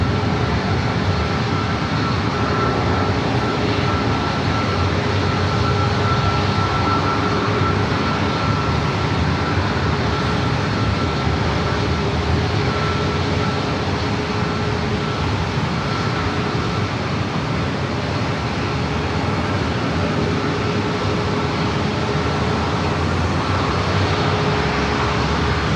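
Alaska Airlines Boeing 737-700 taking off at San Diego airport, a loud, continuous jet engine roar holding steady throughout with a constant engine whine, no talk.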